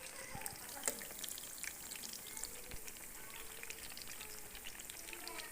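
Eggplant pakoras frying gently in oil over low heat, giving a faint, steady sizzle with scattered soft pops and crackles.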